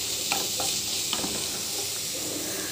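Coriander leaves frying and being stirred in a pan for a leafy-greens chutney, a steady soft sizzle with a few brief scraping clinks of the spoon, close and alone.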